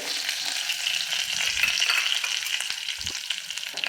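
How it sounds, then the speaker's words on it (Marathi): Spice masala being sautéed with stuffed brinjals in a pan, a steady close sizzle with occasional soft stirring knocks, unbroken by any voices. "हा मसालासुद्धा ह्याच्यासोबत आपण परतून घेऊयात वांग्यासोबत"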